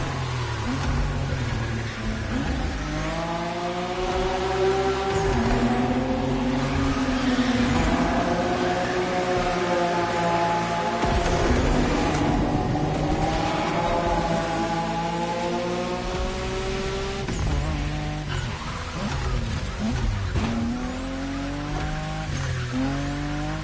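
Racing game car drifting in The Crew Motorfest, an R32 Skyline GT-R, engine revving loudly with rising and falling pitch and long tire squeals through continuous slides, no talk.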